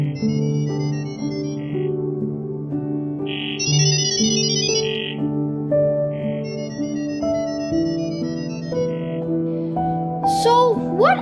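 Gibberlink mode data tones pass between AI agents: bright, steady electronic beeps in shifting short patterns sit over a sustained chordal tone, moderately loud and close, ending in a quick chirping sweep.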